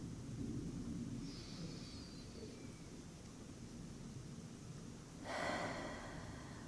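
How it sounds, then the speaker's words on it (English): Deep, slow breathing during a gentle stretching exercise for pudendal neuralgia, soft continuous air noise close by with a stronger exhale near the end and no talk. "Breathing deeply."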